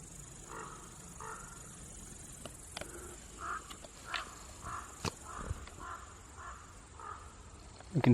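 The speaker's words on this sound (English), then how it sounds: "You can hear some big birds over there." At night in Głuchaczki, large birds give harsh, repeated calls at a steady pace from a distance, over a constant high buzz of insects.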